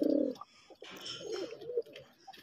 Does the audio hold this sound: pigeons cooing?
yes